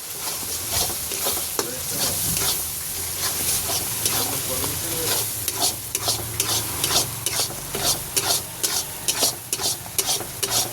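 Spice masala with nuts being sautéed in a pan, stirred steadily with a scraping, frying hiss that grows into rhythmic strokes toward the end, close and fairly loud.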